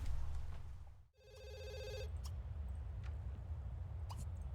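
A telephone rings in a life-simulation video game, a single bright electronic ring lasting about a second, heard over a steady low background hum.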